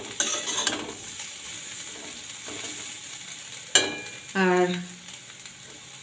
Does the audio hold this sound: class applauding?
no